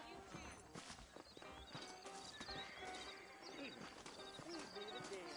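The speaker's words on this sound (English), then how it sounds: "I got the horses saddled up and ready out front." Horse hooves clip-clop amid neighs and whinnies in the Western video game Red Dead Redemption, with horses saddled out front, under steady game music and character talk throughout.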